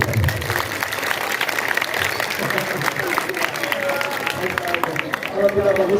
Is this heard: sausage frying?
no